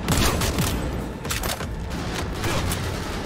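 An assault rifle fires in Cyberpunk 2077, loud rapid bursts of gunfire rattling close up, with booming reports layered through a busy firefight.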